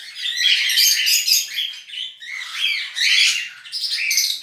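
A breeding pair of cage birds with their chicks in a nest, giving continuous high chirps and squawks, close and fairly loud, with no talk.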